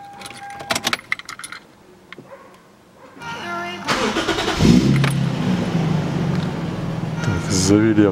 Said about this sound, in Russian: мы сейчас заведем автомобиль и проверим тормоза.